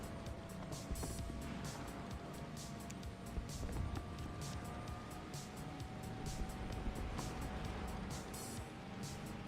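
Tank engines rumble steadily in a video game battle, a constant broadband drone with faint clicks and ticks, moderately loud and unbroken throughout.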